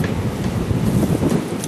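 Strong outdoor wind buffeting a microphone, a brief, steady low rumble with gusty swells and no voices.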